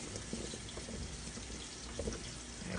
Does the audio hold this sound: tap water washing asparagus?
yes